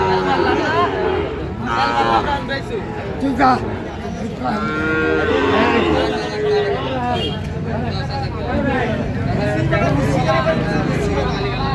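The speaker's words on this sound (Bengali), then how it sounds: "শাহিওয়ালের বাচ্চা" Sahiwal calves moo repeatedly at a busy winter cattle market, their calls rising over steady crowd chatter and bargaining voices close by.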